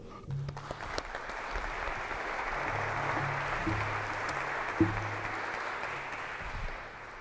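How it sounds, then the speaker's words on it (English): Audience at a Christian community keynote session clapping in a moderate, steady patter that builds and holds, heard at a distance in a large room with a few low murmurs and thumps underneath. "I always think it's funny when people clap at the beginning"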